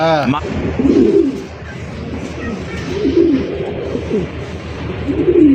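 Nazrana Kaldom pigeon cooing in repeated low, rolling phrases, about three clear coos spread through the stretch, close by, with background noise and faint voices around it.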